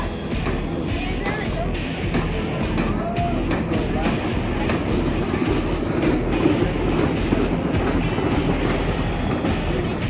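A single train on a classic wooden roller coaster at Six Flags Over Texas rattles and clatters steadily along the track, a dense, continuous rumble heard at a distance, with no clear voices.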